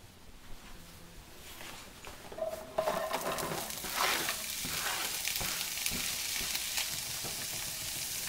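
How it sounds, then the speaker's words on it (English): Onions sauteing in oil in a pan for lentils give a soft, steady sizzle and crackle, with occasional scraping and stirring bursts; quiet and close, with no talking. "The onions have been sauteing for about 5 to 10 minutes."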